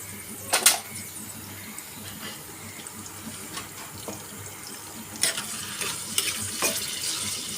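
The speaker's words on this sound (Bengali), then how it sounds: "আমি চুলায় পেঁয়াজ, তেল আর পেঁয়াজ দিয়ে দিলাম, একটু লাল হতে থাকে এগুলো" Chopped onions frying in oil in a pan on a stove, the start of an okra bhaji, give a soft, steady sizzle with a few sharper clinks and scrapes of stirring scattered through.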